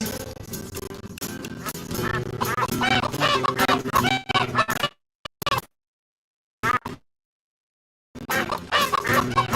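Birds cluck, cackle and squawk in a noisy flurry, then fall silent for a few seconds with brief bursts before the racket resumes.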